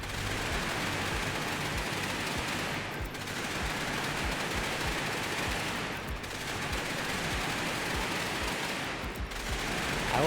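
A video game weapon fires rapidly in continuous dense bursts, a loud unbroken clatter of shots with brief dips roughly every three seconds, nearly alone with no talking.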